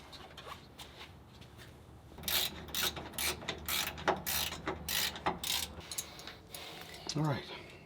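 Ratchet tightening Allen bolts on a Porsche 912 oil cooler bracket in a Subaru EZ30R engine swap, heard as a quiet series of rapid clicking bursts in quick rhythm, close by, with a few faint mechanical taps.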